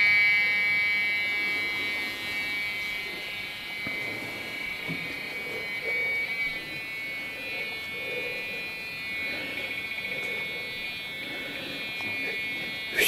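Measuring device sounding a danger warning, a steady, thin electronic buzz with a continuous high whine running unbroken for over ten seconds, fairly quiet, with faint background noise and a few soft knocks.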